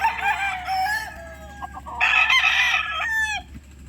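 A Golden Boy sweater gamecock stag crows twice, loud and close, each call a harmonic cock-a-doodle-doo, with a steady low hum of a farm setting underneath.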